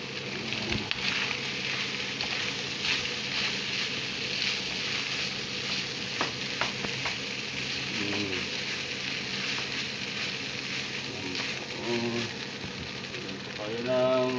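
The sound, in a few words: salmon fried rice frying in a large wok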